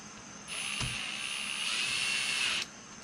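A power tool whirring steadily for about two seconds while screwing a Bodyguard A2L front bumper onto a 2018 GMC 2500 Sierra truck, a high-pitched motor whine close by with a brief knock at the start.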